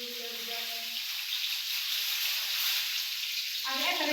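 Food sizzles steadily in a hot frying pan, a dense continuous hiss, with brief talk at the start and end.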